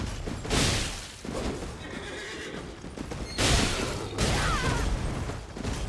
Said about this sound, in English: Your little equine shoulder tackle maneuver.